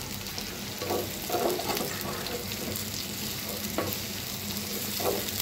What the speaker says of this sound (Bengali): 3-4 মিনিটের মতন এটা লাগবে পেঁয়াজটা ভেজে নিতে